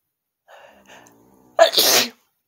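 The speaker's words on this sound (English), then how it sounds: "Now I'm going to sneeze." A single loud sneeze, preceded by a couple of soft quick inhales, then silence.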